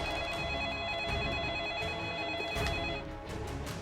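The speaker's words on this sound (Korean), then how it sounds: "경찰서로 한 통의 신고 전화가 걸려온다." A telephone rings at a police station in Guildford, Surrey, faint and steady under a dense, noisy background, with no talk over it.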